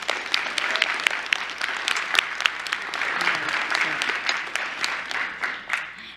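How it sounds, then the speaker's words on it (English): Crowd at a Fairfax High School board meeting claps for the boys' amazing job, a sustained burst of many hands with sharp individual claps standing out, a little speech faintly mixed in. "I really want to be able to applaud them for the amazing job that they did"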